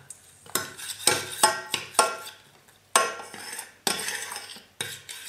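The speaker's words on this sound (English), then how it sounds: "I'm just going to mix the cocoa powder along with the ghee until it mixes to the right consistency" A spoon scrapes and clinks against a bowl while cocoa powder is stirred into ghee, giving a series of short, close, irregular strokes with brief pauses between them.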